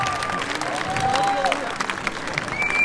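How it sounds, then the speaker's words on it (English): A street crowd on the Royal Mile in Edinburgh claps steadily in a dense patter, with a voice talking over the applause throughout. "Everyone clap for Darren!"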